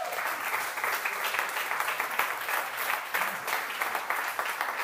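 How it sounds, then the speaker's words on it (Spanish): A church congregation applauds during a baptism service, steady massed clapping from many hands at moderate volume, continuous and even throughout with no speech. "Sí, regalen un aplauso."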